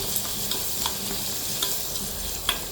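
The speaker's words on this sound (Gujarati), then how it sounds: "હવે ડુંગળી ટ્રાન્સપરેટ થાય ત્યાં સુધી આપણે ડુંગળીને સાતળશું" Chopped onions sauté in a pan, a steady close sizzle with faint crackles and occasional scrapes of stirring throughout, and no voices.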